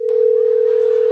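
A single steady telephone tone sounds without a break for just over a second, loud and clean, with no talking.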